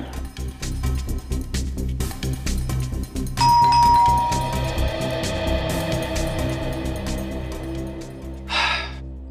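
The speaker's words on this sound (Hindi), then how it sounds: "आप एक बार और घंटी बजाने का कष्ट करें।" A doorbell rings out over steady background music, its chime tone lingering and fading, followed by a short burst of noise near the end.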